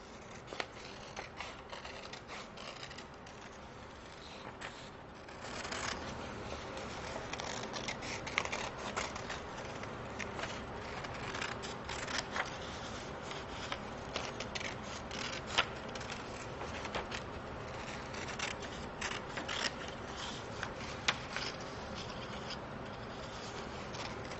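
Scissors snip and rub through paper in a hand craft activity, a steady run of close, quiet crisp cuts and rustles with no talking.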